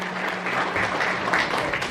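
Applause from an audience at a tribal student-honour ceremony, a steady broadband clapping wash sustained throughout at moderate loudness with no clear talk.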